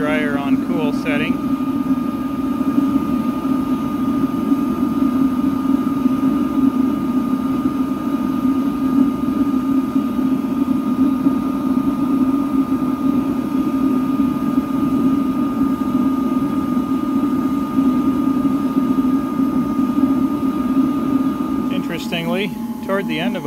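A blue-flame waste oil burner is blown by a hair dryer on its cool setting, giving a steady, unbroken whirring hum with a constant tone throughout and brief clicks near the start and end.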